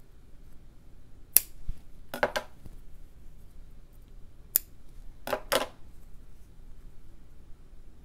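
Scissors snip through fabric in a quiet sewing setting, a few sharp, isolated cuts spaced a second or so apart, close and crisp against near silence.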